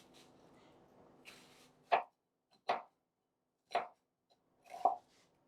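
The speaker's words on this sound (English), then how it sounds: "Meanwhile, I'll cut some onion." A knife chops onion on a cutting board while a curry beef pie filling is prepared: four crisp, separate strikes spaced about a second apart, close and clear, with no talking.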